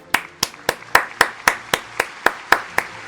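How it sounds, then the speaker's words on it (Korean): One person claps alone at a steady pace, about eleven crisp, close claps in a row with short gaps of quiet between them. "여기까지 오신 분들 너무 박수 드리고요"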